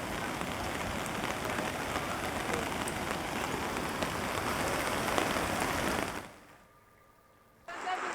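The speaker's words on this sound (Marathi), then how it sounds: "अकोल्यातल्या बाळापूर शहरामध्ये मुसळधार पाऊस झालाय" Heavy monsoon rain pours steadily in Balapur town, Akola, a dense close hiss of drops on surfaces for about six seconds before cutting out briefly, then returning.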